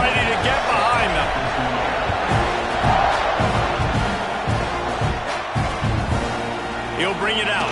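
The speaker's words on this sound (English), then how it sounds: "They're set to kick it off, and this crowd now ready to get behind them" A football crowd cheers and roars through a broad, steady wash as the kickoff approaches, with a commentator talking over it and occasional sharp thuds and shouts rising from the stands.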